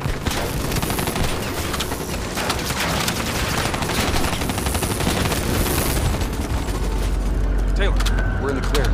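Sustained gunfire from the Black Ops video game, a dense continuous fusillade with machine-gun bursts and booms, loud throughout with game voices mixed in.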